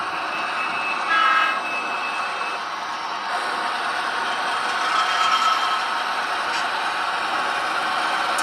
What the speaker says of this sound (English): that's where the train's going through right now.